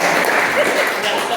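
Audience clapping at a poetry event in London, a short, even burst of applause from the crowd with no voices over it.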